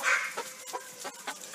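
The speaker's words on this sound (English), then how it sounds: "So this is their chicken coop." Chickens clucking in a backyard coop, a flock of hens giving a series of short, mid-loud clucks and squawks roughly every third of a second, close by with no talk over them.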